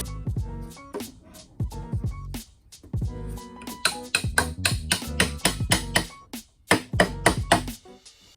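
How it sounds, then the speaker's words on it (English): Sharp metallic taps as metal drawer runners are tapped back into their slots, in irregular bursts, some quick runs of several hits, close and fairly loud with brief pauses between. "so I tapped them back into their slots"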